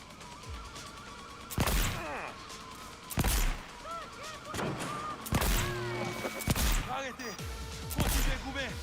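Enemy gunfire in Cyberpunk cracks out in five or six loud, sharp bursts spaced a second or two apart, ringing over music and game sounds and occasional speech.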